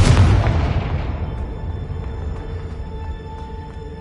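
The Confringo explosive spell from the Hogwarts Legacy video game goes off as a loud, close boom. Its deep rumble decays slowly over several seconds, with faint metallic ringing underneath.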